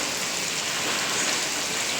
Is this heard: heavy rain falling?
yes